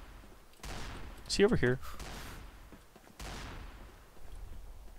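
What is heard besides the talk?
Azazel gun firing in the video game Combat Arms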